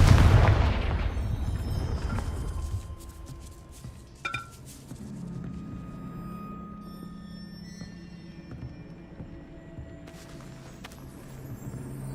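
A Confringo spell blast in a wizarding video game explodes as a sharp, loud burst at the start, its energy fading over a few seconds into a low rumbling bed, with a brief clinking impact a little later.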